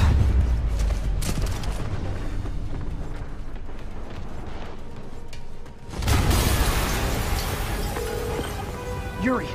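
Explosions and gunfire in the Spider-Man video game from Insomniac burst in loud, dense clusters of blasts and shots, with a heavy boom about two-thirds of the way through and little talk.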